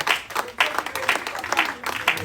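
Applause from a church congregation during a French-language sermon, in short rhythmic bursts of clapping with a voice present.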